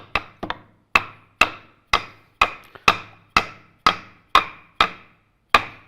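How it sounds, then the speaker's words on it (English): A hammer knocks apart a wooden sliding dovetail joint with about a dozen sharp, evenly spaced blows, each ringing briefly before the next, loud and close with no talking. "Miria, can you please hammer a little bit?"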